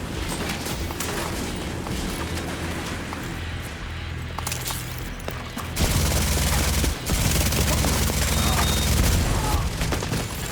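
Sustained automatic gunfire and explosions in the video game Division 2, dense rapid bursts that grow louder partway through, with players talking over the shooting.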